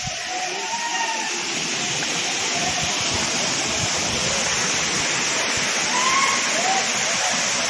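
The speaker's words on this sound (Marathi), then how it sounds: "धबधबा आहे, तुम्हाला मी आता जाऊन दाखवणार आहे।" Vajra waterfall near Mahur in Nanded district, Maharashtra, pours with a steady, broad rushing roar from nearby, while a voice occasionally speaks faintly over the water.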